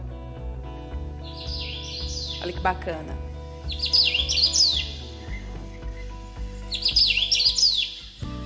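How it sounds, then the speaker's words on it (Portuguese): Played-back birdsong from a museum display panel: high chirping phrases repeat in bursts over a steady low electronic hum, with a person speaking briefly in between. "Nesse painel aqui a gente escolhe qual pássaro a gente quer ouvir e olha, aperta o botão"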